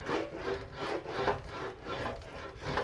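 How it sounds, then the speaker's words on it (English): Sheet metal for the outer wheelhouse of a 1965 Thunderbird convertible rolls back and forth through an English wheel, making a rhythmic rasping, rubbing swish in repeated close strokes with no talking. "So I'm going to try it on the English wheel again."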